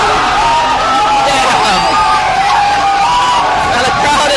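An arena crowd at a Street Fighter fighting game tournament roaring and cheering wildly, a dense sustained loud babble of whoops and shouts that stays steady throughout, with a voice talking over it.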